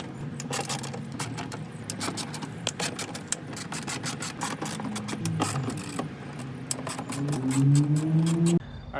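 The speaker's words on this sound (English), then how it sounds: "So we're gonna go ahead and pop those off." A hand ratchet backs out 10 mm bolts from a Nissan 350Z door panel, with a steady fast run of close, crisp pawl clicks and a rising whir in the last seconds.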